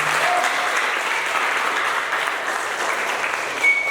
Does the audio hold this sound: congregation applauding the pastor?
yes